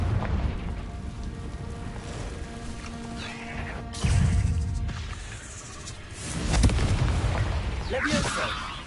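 A fire curse spell explodes in Hogwarts Legacy, with booming crashes and bursts rising at several moments over a busy background of combat effects and voices.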